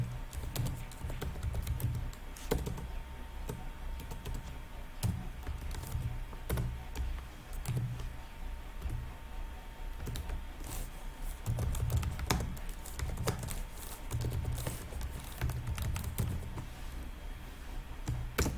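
Typing C# code on a computer keyboard, with a steady run of close clicking keystrokes in irregular bursts, alone without talk for the whole stretch.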